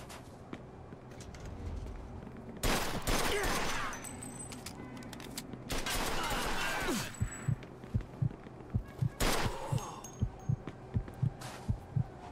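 Gunfire in the video game Mafia II: Definitive Edition, with three loud bursts of shots followed by a fast, regular string of single sharp reports near the end.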